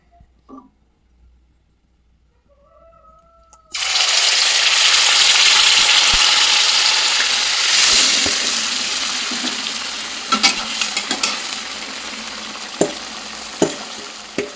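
Bottle gourd rice cake batter is poured into hot oil and sets off a loud sudden sizzle after a few quiet seconds. The sizzle holds steady and slowly eases, with a few sharp clinks of a utensil later on.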